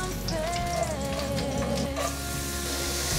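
Enoki mushrooms hit hot oil with ginger slices in a pan and sizzle steadily, a dense close frying hiss with faint stirring scrapes and no talk.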